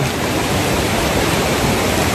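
Heavy floodwater rushes steadily through a flooded street in the rain, a dense, continuous roar with no pauses.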